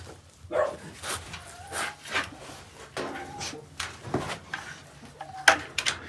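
A litter of puppies barking indoors, with a string of short, high yips and barks coming in quick irregular bursts, some close and loud.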